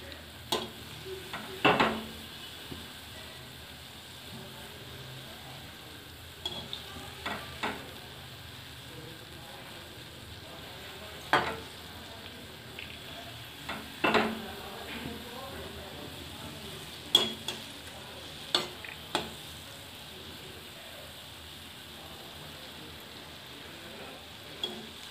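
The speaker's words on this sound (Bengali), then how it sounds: "একটু এটা টাইম নিয়ে ভাজতে হবে" Cake batter frying in oil in a pan gives a low, steady sizzle, broken by a few short clinks and scrapes as the fried cake is turned and basted.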